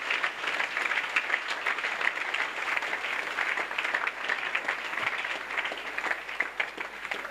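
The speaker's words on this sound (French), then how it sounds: "And clap as they stand up and come forward" An audience claps steadily and densely throughout an evangelism crusade service, a continuous wash of applause from a large indoor crowd with no pause.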